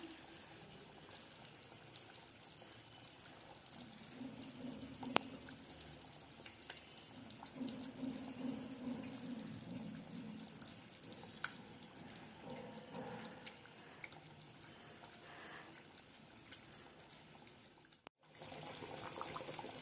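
Fish kulambu simmering in a clay pot over a low gas flame, giving a steady, close bubbling and gurgling that carries on for most of the stretch and cuts off briefly near the end.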